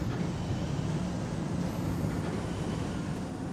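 A train rolls along the tracks in Factorio, a steady low rumble that holds evenly throughout with no breaks or voices.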